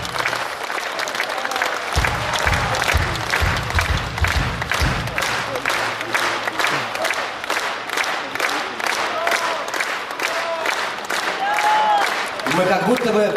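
Audience applause fills a concert hall in the Kremlin, sustained dense clapping and some cheering for a vocal-instrumental ensemble, loud and steady throughout with a brief low rumble near the start.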